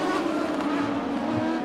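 ModLite race cars starting a 20-lap main event at Arizona Speedway, a loud buzzing pack of engines revving together with a high insect-like whine, steady and close.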